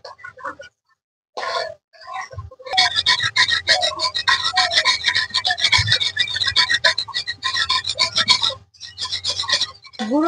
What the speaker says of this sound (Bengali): এবার নেড়ে চেড়ে দুধের সঙ্গে খুব ভালো করে মিশিয়ে নেব